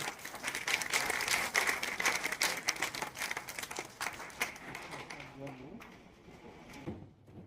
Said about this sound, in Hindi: बस जोरदार तालियां।